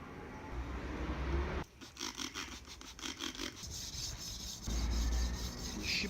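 A kitchen knife scrapes back and forth across diamond sharpening stones on finer grits, a gritty rasping stroke repeated in a quick rhythm, close up and fairly quiet, with no voices.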